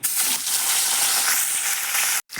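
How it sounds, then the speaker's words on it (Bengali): Fish pieces frying in mustard oil in a wok give a loud, dense, hissing sizzle that holds steady, then cuts off briefly near the end before resuming, with no voices. "কড়াইতে দিয়ে দিয়েছি সর্ষের তেল এইবার বন্ধুরা এক একটা করে আমি মাছ এখানে ছেড়ে দেবো"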